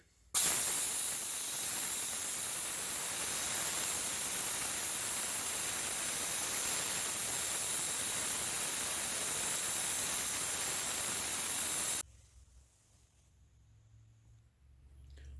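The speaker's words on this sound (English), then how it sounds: "So we got the air line connected to the spark plug cleaner and this dirty spark plug." An air-powered sandblaster spark plug cleaner blasts a dirty spark plug from a 2-stroke or carbureted engine, giving a loud, steady, close hiss that runs for about twelve seconds and then cuts off to near silence.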